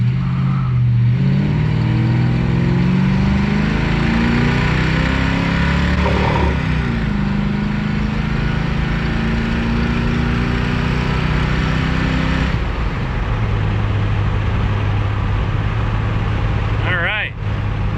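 A stock Chevrolet El Camino with its air cleaner lid open accelerates hard in a 0 to 60 run, its engine rising through gears with a shift partway, loud and continuous while someone talks over it.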